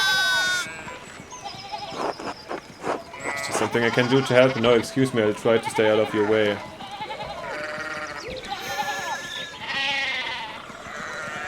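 Sheep bleat repeatedly in the medieval narrative video game Pentiment, with game music underneath and characters talking over the animal calls throughout.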